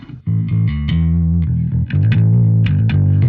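Bass guitar recorded through a Gallien-Krueger amp with Decapitator distortion plays a loud, continuous gritty melodic line of sustained notes, heavily saturated and upfront, with no voices.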